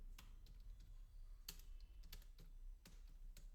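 A computer keyboard clatters as someone types code: irregular, crisp keystrokes close to the mic, some louder than others, over a steady low hum with no speech.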